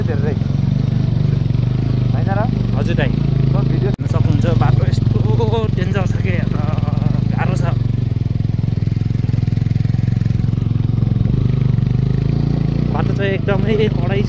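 Motorcycle riding over a rough, dangerous road, a steady engine drone running throughout with occasional louder bumps, while people talk over it.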